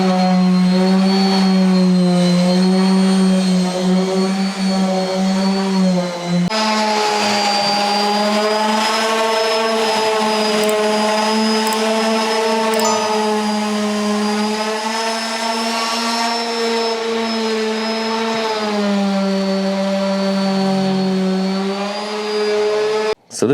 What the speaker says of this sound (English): I use an oscillating tool and a sander is usually the best way.